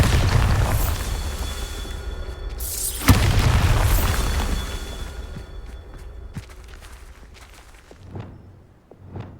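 A Bombarda blast spell from the video game Hogwarts Legacy goes off in a deep, rumbling boom, with a sharp burst partway through and a long roaring tail that fades into scattered smaller pops and impacts.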